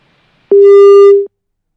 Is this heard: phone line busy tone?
yes